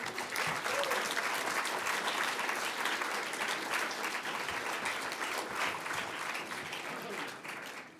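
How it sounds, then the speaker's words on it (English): Sustained audience applause at a financial services dinner, dense steady clapping from a large crowd for the students, continuous for several seconds before fading slightly at the end. "Please, and another applause to the students."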